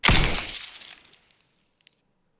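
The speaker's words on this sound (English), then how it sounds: "this here is the sound of the bullet actually hitting the ground" Ice pistol bullet impact from the game Wizard With a Gun, a loud shattering icy crash that decays over about a second into scattered small crystalline tinkles, alone.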